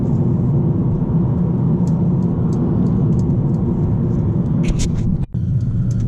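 A 2019 Mercedes CLA180 driving on a twisty road, with a steady low engine and road rumble heard from inside the cabin and a brief dip near the end.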